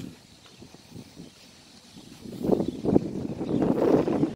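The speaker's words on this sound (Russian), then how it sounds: "Такая тишина. Только ветер" Gusty wind rumbles and buffets outdoors, quiet at first, then swelling into louder, rougher gusts toward the end, with no talking.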